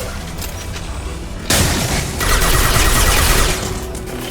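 Weapon fire in the video game Mass Effect: a sudden loud blast breaks in partway through, followed by a sustained, dense burst of rapid gunfire that rattles on for over a second before easing.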